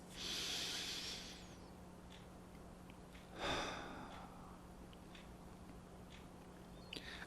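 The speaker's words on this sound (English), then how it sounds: "Allow yourself to take a deep breath. Do that by inhaling through your nose. And exhale." A slow, deep breath drawn in through the nose, then a long exhale, close and soft in a quiet room with a steady low hum and a faint ticking.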